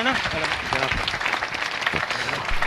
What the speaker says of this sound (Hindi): जोरदार तालियों के साथ उनका अभिनंदन और स्वागत करें।